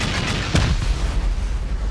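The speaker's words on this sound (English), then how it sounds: "We'll send rockets down there." Rocket blasts tear into a sealed bunker of honeycomb and sheet metal during a Rust raid, one heavy boom landing early among muffled rumbling hits and a low, continuous roar.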